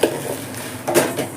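A spoon scrapes and clinks in a pan as coconut and coriander seeds roast, a few quick metallic stirs close up and fairly soft.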